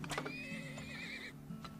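A horse neighs and whinnies in the video game Turmoil, a bright rising-and-falling call with hoof clip-clops at the start and a brief second whinny near the end, set against a steady low game hum.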